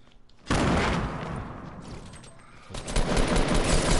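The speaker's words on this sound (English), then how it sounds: "There's someone shooting me!" Sustained gunfire in a squad shooter video game: dense, loud automatic bursts that start abruptly and continue rapid and near, swelling again toward the end.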